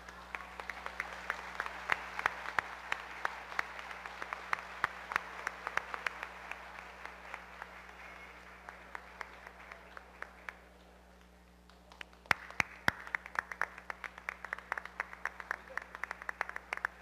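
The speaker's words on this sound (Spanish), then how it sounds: "quiero que le demos un fuerte aplauso" An audience at a national bolero singing contest in Caicedonia applauding, steady moderate clapping that fades midway and then swells again with sharp, scattered claps.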